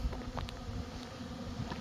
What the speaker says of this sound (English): You see how quick the bees find stuff